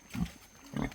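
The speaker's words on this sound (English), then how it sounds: "I just cut them up and chuck them to the pigs, and they will just hammer it" Pigs in a pen on Niue Island grunt and snort as they eat chopped-up leaves, with two short bursts of close, low grunting and a quieter gap between them.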